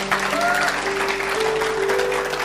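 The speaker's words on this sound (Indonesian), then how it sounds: "Tepuk tangan buat Tuhan." A church congregation claps together in sustained, dense applause that stays even and full for the whole stretch, with a faint steady tone ringing through the room.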